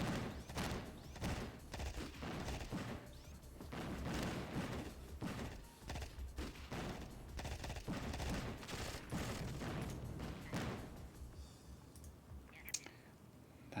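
Machine gun fire in an old Amiga action game rattles in repeated short, clicky bursts, quite faint and steady over about twelve seconds, with occasional thuds between volleys.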